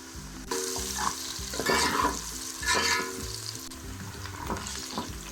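Onions frying in oil in a pan until golden, steady close sizzle with bursts of louder spitting and occasional stirring scrapes throughout, no voices.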